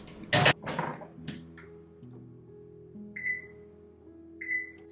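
A kitchen oven runs while poha bakes inside: a few clunks and a door-like knock at the start, then a low steady hum with bright electronic chimes or beeps sounding twice.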